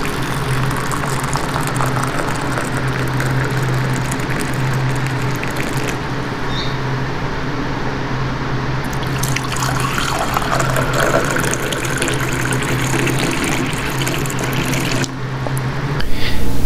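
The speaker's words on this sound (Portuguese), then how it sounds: "a diferença de som que tem entre a água fria caindo dentro de uma xícara em relação à água quente caindo dentro de uma xícara" Cold water and then hot water pour steadily into a cup, a continuous splashing stream whose tone shifts partway through as the pours change, with no talking.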